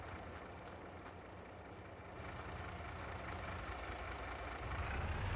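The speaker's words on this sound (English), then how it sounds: "Move these trucks out of the way here a minute." Trucks being moved in a farming video game set in the Upper Mississippi River Valley: a steady, continuous engine drone that grows slightly louder toward the end, with no talk.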